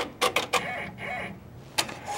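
An embroidery machine trims its own thread after stitching, giving a few short sharp mechanical clicks and snips up close, followed by a soft whirring motor sweep, then another crisp click near the end.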